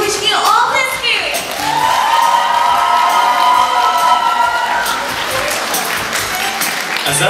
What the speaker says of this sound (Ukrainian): Ваші гучні оплески!